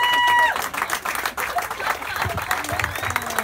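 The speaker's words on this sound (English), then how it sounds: "Another round of applause for Heather." A room full of people applauding, steady dense clapping that carries on throughout, with some voices mixed in.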